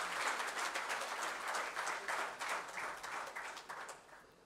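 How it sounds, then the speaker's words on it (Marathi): Applause from an audience at a Marathi book launch ripples steadily through the hall, a dense wash of many hands clapping at moderate distance and slowly tapering toward the end. "आपण सगळ्यांनी एकदा जोरदार टाळ्या वाजवून सर्वांचे स्वागत करू"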